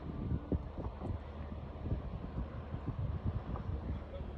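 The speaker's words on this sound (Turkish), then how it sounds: "Hafif meltem başladı." Soft, steady wind rushes faintly throughout with low gusty rumbling and no talking.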